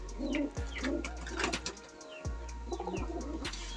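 A high-flying pigeon breeding pair cooing in a loft, with repeated low throaty coos in a steady rhythm and a few soft chirps and thumps nearby, close and clear.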